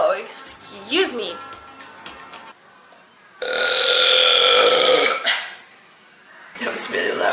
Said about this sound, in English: Wait, I gotta burp.